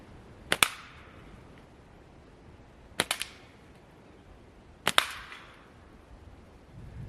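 Three sharp gunshots at tin cans on the ground outdoors, spaced a couple of seconds apart, the first and third closely followed by a quick second crack or ricochet, each loud and crisp with a short fading tail.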